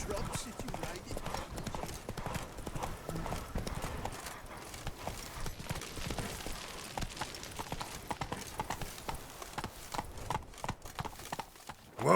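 Roach the horse trotting in The Witcher 3's Blood and Wine, with steady rhythmic clip-clop hoofbeats carried by game ambience throughout, a voice speaking over the hooves, and a short louder burst at the very end.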